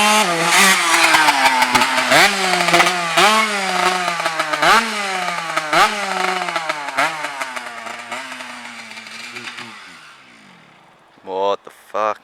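A faulty Suzuki S13 motorbike engine runs loud and close, revving in rough, uneven surges with sputtering pulses before it dies away; after a short pause it catches again in brief bursts, with voices talking over it.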